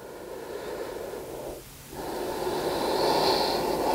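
During a vinyasa yoga flow, a slow deep breath is drawn in through the nose and then pushed out in a long airy exhale, close and clear, with a brief pause between them.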